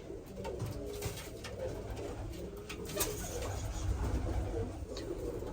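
Pigeons coo close by in soft, repeated throaty calls over a low, busy background, with no one talking.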